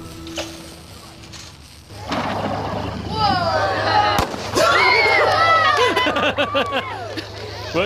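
Firework set off underwater, a bubbling, hissing burn that swells into loud, churning gurgles and pops over several seconds, with a voice heard over it.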